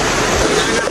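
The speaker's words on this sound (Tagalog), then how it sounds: "Sobrang lakas na po ng agos ng ilog." A fast-flowing river swollen by heavy rain rushes past in a loud, continuous roar of churning water, heard up close for about a second.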